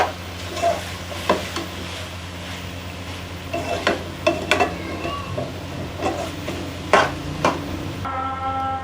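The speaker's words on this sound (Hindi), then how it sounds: "ये बॉयल मैक्रोनी हमने इसमें डाल ली है, तो अब हम इसको अच्छी तरह से मिक्स करके 2 मिनट के लिए दम पे रख लेंगे।" Boiled macaroni being stirred into a chicken mixture in a pan, with a close, irregular scraping and clattering of the spoon against metal over a soft, steady sizzle.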